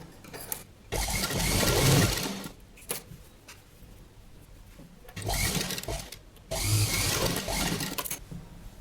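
A sewing machine stitches a padded katori blouse in loud bursts of whirring run, separated by quieter pauses with light handling of fabric.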